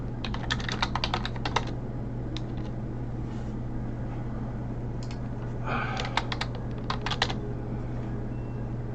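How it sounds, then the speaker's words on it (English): Bursts of computer keyboard typing in two clusters over a steady low hum, fairly close and clear, with brief pauses between flurries of keystrokes; no talking. "Sorry. I was typing."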